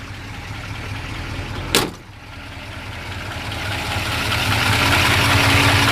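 A 1956 Chrysler 300B's Hemi V8 rumbles at a steady idle through dual exhaust, loud and close, with a sharp knock partway through and the idle swelling slightly afterward.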